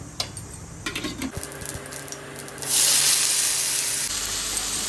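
Mustard seeds and dried red chillies sizzle in hot oil for rasam, a loud steady hiss rising midway after some clinks of a pan, with no talking.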